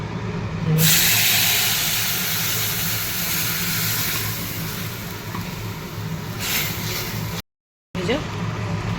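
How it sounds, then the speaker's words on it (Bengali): Mustard eggplant curry bubbling in a pan, a steady simmering hiss and crackle throughout at moderate level, with someone talking over it. "এখানে টকবক করে আমার সর্ষে বেগুনটা করছি"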